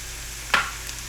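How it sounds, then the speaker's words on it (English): Yellow onions and green onions sautéing in a pan give a steady, soft sizzling hiss, broken once by a brief clink from a utensil. "And then we'll add our vegetables to saute. There's our yellow onions and our green onions."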